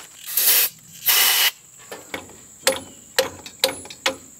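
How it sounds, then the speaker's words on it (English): Brake cleaner hisses from an aerosol can in two strong bursts during a 1977 Camaro engine install, followed by several sharp metallic ratchet clicks. "Let me get some brake cleaner and try to spray in that hole."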